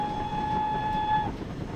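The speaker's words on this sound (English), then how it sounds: "So here we have the standard whistle." A steady, clear standard whistle from a GWR 5101 Large Prairie steam locomotive sounds for just over a second, a single bright tone with overtones, then cuts off leaving low background rumble.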